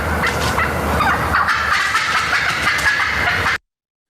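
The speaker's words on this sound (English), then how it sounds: "what you're hearing is it's not only the wings pushing air, but it's the wingtips slapping together and kind of beating against that hen's body" A wild turkey hen flies down from her roost, a loud, close rush of beating wings with wingtips slapping against each other and her body, lasting about three and a half seconds before cutting off.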